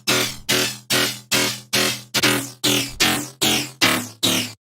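An FM square-wavetable bass synth patch in Serum plays loud, gritty, buzzing notes. They repeat in an even rhythm of about ten hits, each decaying quickly, with no voice over them.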